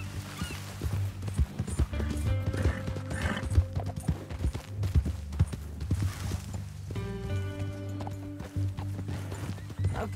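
Horse hooves clip-clop steadily in the Red Dead Redemption 2 video game, a close, even walking rhythm with creaks and a few soft snorts, little talk over it.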